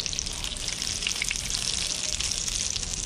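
Spanish mackerel fillets sizzle and crackle steadily in a hot frying pan, a dense, even hiss of oil that holds close and loud throughout with no talking.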